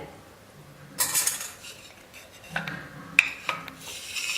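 Green tea with lemon and honey is stirred in a cup, with a spoon scraping and clinking against the sides in several short bursts over a quiet background.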